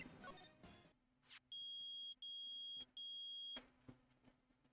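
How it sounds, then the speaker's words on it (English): Three loud, even electronic beeps from a metal detector in the Ace Attorney video game, each lasting about half a second, rising sharply over quiet background sounds. "It's beeping. The metal detector found something."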